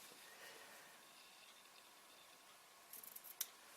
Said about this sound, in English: now be careful with this, only cut through one part of the cloth